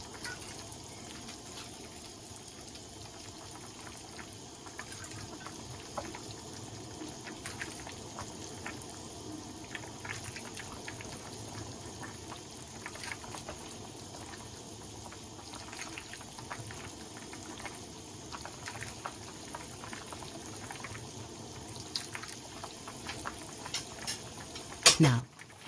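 Pork broth simmers gently in a pot with soft, continuous bubbling and faint spoon clinks, low and steady, ending in a brief sharper knock.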